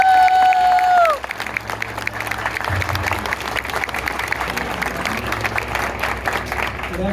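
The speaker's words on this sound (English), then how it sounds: "please give a round of applause" An audience applauds at a community gathering in Patchogue, breaking into steady clapping with a few cheers after a sustained tone cuts off, continuing evenly to the end.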